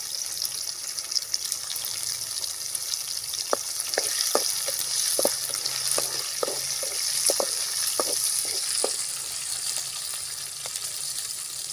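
Curry leaves and asafoetida fry in hot oil for appalam kulambu, a continuous sizzling hiss broken by sharp crackles and pops, close and fairly quiet.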